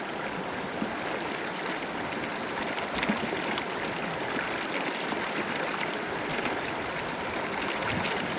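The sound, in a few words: river flowing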